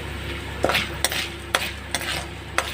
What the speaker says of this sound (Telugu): ఇప్పుడు ఒక రెండు స్పూన్లు మిరపకూలు కూడా వేసి ఫ్రై చేద్దాము